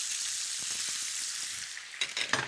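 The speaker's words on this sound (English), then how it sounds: "we're going to transfer these gorgeous little Brussels sprouts into the pan" Brussels sprouts going into a pan of hot fat, a loud steady sizzle that flares into sharper crackling and clatter toward the end as more sprouts land, with no one speaking.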